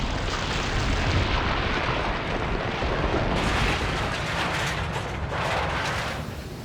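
Demolition blast from a news report with shrapnel thrown high into the air: a loud, sustained roaring rumble with crackling debris that stays dense for several seconds, with no talk over it.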